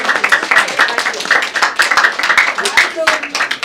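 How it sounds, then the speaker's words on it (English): A school audience at a middle school history bee gives a big round of applause, a steady burst of rhythmic hand clapping from many people close by, lasting several seconds. "let's give everybody a big round of applause"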